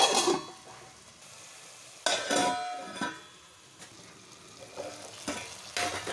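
Tomatoes sizzle and fry in hot oil in a pan for a Goan-style fish thali. A steady close crackle runs throughout, broken by a few louder scraping stirs and light clinks against the pan, with no one talking.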